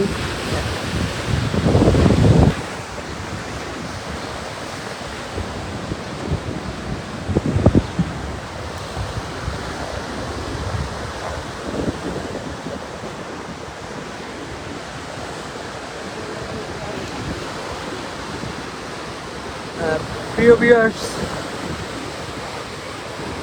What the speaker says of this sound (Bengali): এই মুহূর্তে এই নদীতে কী পরিমাণ ঢেউ রয়েছে